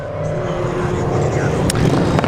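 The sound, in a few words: cars racing on the circuit track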